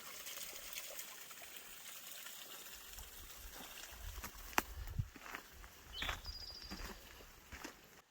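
Faint trickle of water running from a rusty pipe near a Death Valley ghost town, a steady soft wash with a few small knocks and splashes, no voices.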